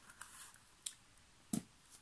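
Two crisp snips of scissors cutting a paper strip, close and quiet, separated by a short pause against a faint background.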